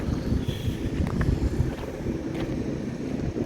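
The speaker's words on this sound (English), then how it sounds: "It's a little windy." Wind buffets the microphone outdoors on an overcast day in Appleton, Wisconsin, a steady low rumbling roar with gusty fluctuations, fairly loud and with no one talking.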